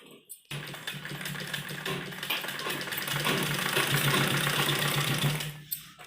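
A sewing machine stitches fabric for a newborn baby's dress. It starts after a short silence and runs as a steady, close mechanical hum and rapid needle chatter for about five seconds, then stops with a few soft clicks.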